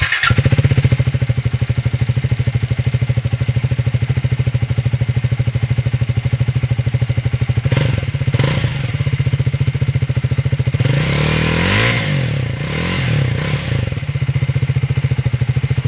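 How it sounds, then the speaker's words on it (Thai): A Triumph Speed 400 single-cylinder motorcycle on its stock exhaust idles with a steady, loud thumping beat, then is revved a few times around the middle of the clip before settling back to idle, with no talking. "ท่ออันนี้เป็นท่อเดิมเดี๋ยวผมจะให้ฟังเสียงก่อน"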